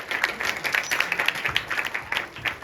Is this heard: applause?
yes